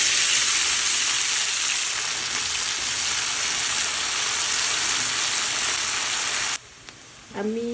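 Onions hitting hot oil with dried chillies in a pan, a loud continuous sizzle and crackle that cuts off abruptly near the end, leaving quiet room tone and a brief stir.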